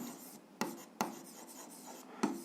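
A pen scratches across paper while working a school algebra exercise, soft quiet strokes punctuated by three sharper taps, close up and without talk.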